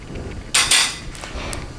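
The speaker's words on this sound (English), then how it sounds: "So we are sifting it," Dry ingredients for chocolate crinkles, including salt and baking powder, are sifted through a metal sieve. Two short, bright bursts of tapping and rattling come close together, followed by a few fainter clinks against a quiet background.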